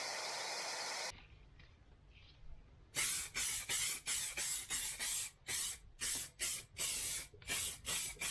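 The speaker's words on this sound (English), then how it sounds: "I'm going to put the colour on with an airbrush, with the paint diluted with water to keep it weak" An airbrush sprays paint thinned with water onto a Star Wars model panel. A steady hiss of about a second comes first, then a quiet pause, then a run of loud, close, short spray bursts in an uneven stop-start rhythm.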